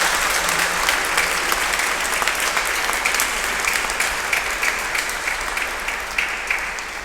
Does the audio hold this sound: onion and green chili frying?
no